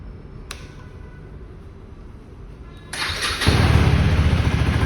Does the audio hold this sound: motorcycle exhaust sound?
yes